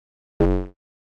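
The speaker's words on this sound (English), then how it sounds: "So this bass, without any effects, sounds like this." A Serum synth dunk bass built from a single sine wave and played dry without effects, one short, loud, tonal note lasting about a third of a second, rich in stacked harmonics, starting sharply and fading quickly into silence.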